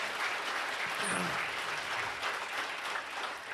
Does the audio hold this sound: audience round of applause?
yes